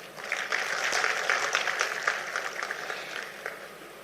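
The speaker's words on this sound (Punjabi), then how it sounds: "ਇਹਦੇ ਵਾਸਤੇ ਮੈਂ ਤੁਹਾਡੇ ਲਈ ਤਾੜੀ ਮਾਰਦਾ" An audience claps for teachers at a public gathering, a moderately loud burst of applause from many hands that holds steady and then thins toward the end.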